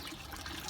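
Water draining through an aquaponics bell siphon back into a fish pond, a steady close gurgling rush of flowing water.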